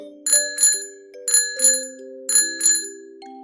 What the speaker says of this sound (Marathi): बायसिकलची बेल आवाज काढते क्रिंग क्रिंग क्रिंग